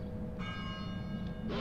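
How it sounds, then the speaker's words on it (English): A single bell strike in the video game Getting Over It, a bright ringing tone that sustains and fades over a low rumbling background before a burst of noise cuts in. "So, that's the bell."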